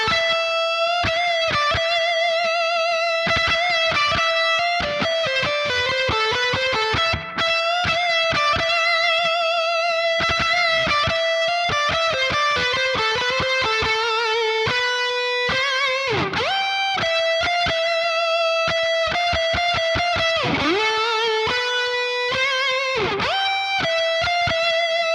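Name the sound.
electric guitar through 5150 Iconic amp with spring reverb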